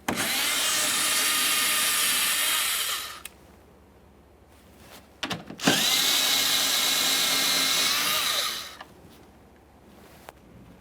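A power drill or impact driver removes 7mm mounting bolts in a 2015-2020 Ford F-150 wheel well, two sustained whirring runs of a few seconds each, close and loud, with brief clicks between them.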